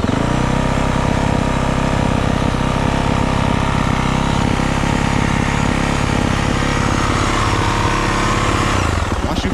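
A dirt bike engine idles high on choke after starting, a steady, loud, continuous motor drone with a fast, even rhythm throughout, close to the listener, with no talking over it.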